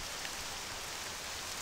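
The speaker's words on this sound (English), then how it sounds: "The rain." Steady rain falls in Octopath Traveler II, a soft, even hiss of drops that holds constant and fairly quiet throughout, with no voices.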